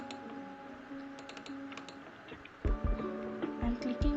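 Keys on a computer keyboard clack as an email address is typed into a sign-in page, a quick run of close taps over a faint steady electronic hum.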